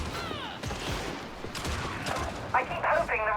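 Ranged weapon fire in the co-op shooter Darktide comes as a rapid, close burst of shots under game noise and voices, followed by sharp mechanical clatter near the end.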